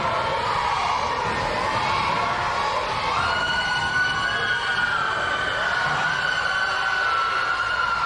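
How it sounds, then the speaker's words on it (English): Wrestling crowd jeering a heel wrestler, a dense steady roar of boos and shouts filling the arena at constant loudness, with no clear voices above it. "The crowd letting him have it again."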